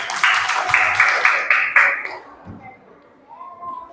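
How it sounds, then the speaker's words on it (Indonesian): Group clapping for a child stepping up to introduce themselves, a lively burst of applause for about two seconds that quickly dies away, followed by quieter room sound and a faint voice. "Tepuk tangan, kasih tepuk tangan."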